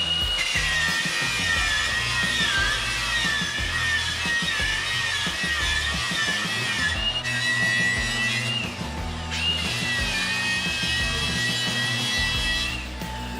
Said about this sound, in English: Time to get grinding.